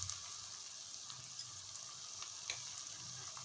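Onions and semiya fry in a pan while being stirred, making a soft, steady sizzle with small scraping clicks from the stirring scattered through it.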